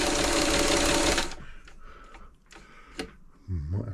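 A Singer 237 sewing machine, just serviced, runs loud and steady for over a second, then stops; faint clicks and handling noises follow, and a voice comes in near the end.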